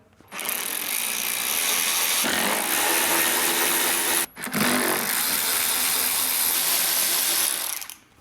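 A power driver spins out Torx 27 screws from a Harley-Davidson fairing, a loud continuous ratcheting whir in two long bursts split by a brief pause, with no talking.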